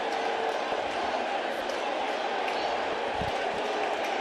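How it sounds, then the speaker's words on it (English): Lively baseball crowd at Yankee Stadium during a Mets versus Yankees game, a dense steady roar of many voices throughout, with a commentator talking over it. "Very lively crowd here at Yankee Stadium for both sides"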